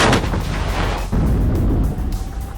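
Heavy gunfire and booming artillery from a WARNO battle, a dense rumbling barrage with sharp bursts rolling continuously and loudly throughout.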